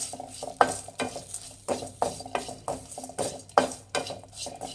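Chicken masala frying in a pan as coriander and chilli powder are stirred in, with repeated scraping strokes of a spoon over a steady close sizzle; no one speaks.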